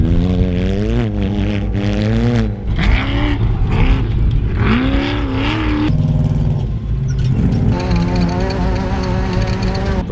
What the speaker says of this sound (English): The race course is full of cars